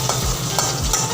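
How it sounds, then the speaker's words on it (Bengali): Chopped onion stirred in hot oil in a pan, a steady close sizzle broken by a few scraping stirs of the spoon. "অল্প একটু পেঁয়াজ নেড়ে তেলের মধ্যে অ্যাড করলাম।"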